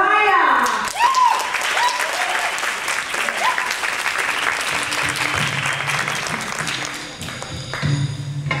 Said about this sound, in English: With a warm round of applause, please welcome Mariah!